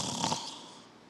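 A preacher's voice imitates the snoring of sleeping disciples, a single short raspy snore-like breath, close and fairly loud, fading quickly.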